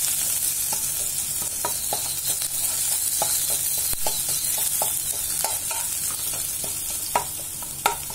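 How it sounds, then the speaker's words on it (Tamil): Green chillies sauté in hot oil with a constant bright sizzle, while a spoon stirs and scrapes the pan in repeated short knocks; close up, with no talking. "நல்லா பச்சை மிளகாய் போட்டு நல்லா கொஞ்சம் அப்படியே வதக்கணும்."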